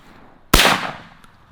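A single sharp, loud gunshot fires during a bird hunt in the Jamaican bush, a sudden broadband crack that trails off into a decaying echo over about a second, with quiet outdoor ambience before and after.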